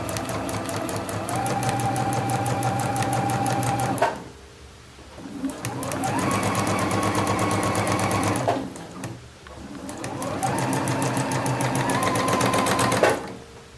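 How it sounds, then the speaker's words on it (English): A home sewing machine stitches a shirt seam in three long bursts of fast, steady mechanical whirring and clatter, each run slowing to a stop before the next starts close by. "I really am happy with this machine so far."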